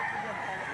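A rooster crowing at a chicken sale in Lipa City, Batangas, a brief loud crow sustained through the short moment, with a hint of nearby activity around it.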